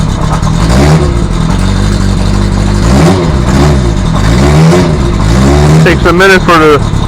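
A custom-built Super Tahoe revs its engine hard in repeated rising and falling sweeps, loud and close, with a clattery mechanical undertone between pulls.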